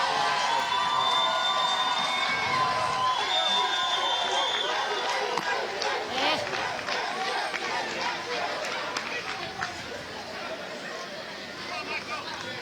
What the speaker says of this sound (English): Crowd chanting "Grizz, Grizz, Grizz."